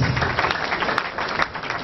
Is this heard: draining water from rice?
no